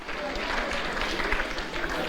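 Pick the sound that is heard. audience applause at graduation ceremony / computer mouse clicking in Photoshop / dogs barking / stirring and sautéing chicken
audience applause at graduation ceremony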